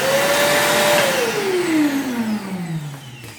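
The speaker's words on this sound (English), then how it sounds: "we are going to try this vacuum cleaner" A Parkside PNTS 1300 D3 wet and dry vacuum cleaner runs with a steady loud whoosh and a whining motor tone that holds, then slides steadily downward as it spins down.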